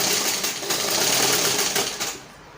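A sewing machine stitches horsehair braid onto the crinoline edge of a peplum flare, a close, fast continuous whir that slows and fades out at the end.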